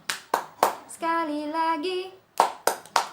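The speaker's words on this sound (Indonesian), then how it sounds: "Tepuk tangan, tepuk tangan, tepuk tangan, bergembira." Hands clap in quick sets of three along with an Indonesian children's song. Crisp, close claps open and close the passage, and a sustained sung phrase fills the middle.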